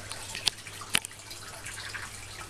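Water runs through a pipe into fish tanks in an aquaponics setup at Cooroy, Australia, making a steady close trickle broken by a few distinct drips.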